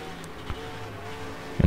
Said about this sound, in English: we do have some cars coming up behind me